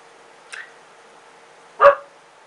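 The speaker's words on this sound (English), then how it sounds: "Quiet dog." A single dog gives a short soft whimper, then one sharp close bark after a pause, against a quiet background.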